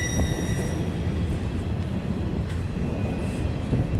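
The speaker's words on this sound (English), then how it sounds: "Nothing like the sound of thunder and squeaking train brakes" A train rolls by during a severe thunderstorm, its brakes letting out thin, high squeals above a dense, continuous rumble of wheels and cars, with no voices.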